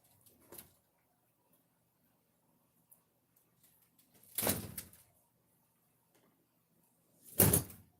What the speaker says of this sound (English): Is someone knocking the door?